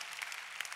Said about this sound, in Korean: 우리 박수 한번 해주시고